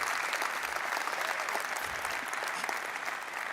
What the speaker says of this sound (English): Oh, yes, you can clap for that.